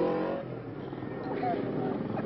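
Motorcycle engines idle and rumble together at a motorcycle rally, the Rallye des Chamois at Val d'Isère, a steady close mechanical drone with voices talking over it throughout.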